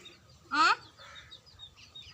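A single short cluck from a nearby chicken, loud against a quiet background with faint bird chirps.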